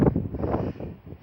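Strong wind buffets a microphone outdoors on a walk during flooding, a low, rumbling, steady roar with gusty swells across the brief moment.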